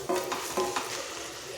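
Boiled rice tossed and stir-fried in a pan for veg Schezwan fried rice, a close hiss of frying with a few brisk stirring scrapes near the start and middle, then a softer continuous sizzle, no talking.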